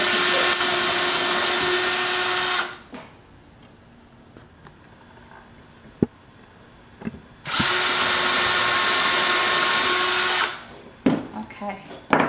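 A power drill driving screws into wood pieces in two loud, whining bursts of a few seconds each, separated by quieter handling and a few knocks.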